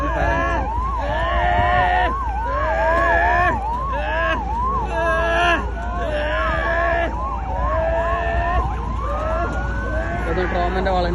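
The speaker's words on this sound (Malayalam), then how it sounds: "ആംബുലൻസ് എത്തി." An ambulance siren wails in a steady, repeating up-and-down pattern during an emergency drill at Karipur airport. It is loud and close throughout, with faint voices underneath.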